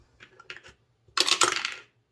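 A die is rolled for a money-saving challenge: a few light clicks, then a louder rattling clatter as it tumbles across a hard surface and settles, close and clear with no talking.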